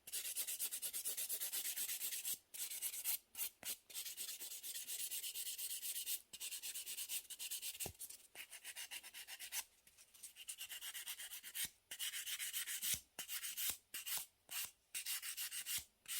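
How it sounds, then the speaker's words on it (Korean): A nail file sands a gel nail surface to smooth away scratches, giving a steady, close, soft scratchy rubbing broken by short pauses between strokes, with no talk. "지금 너무 스크래치를 많이 냈기 때문에 샌딩으로 한번"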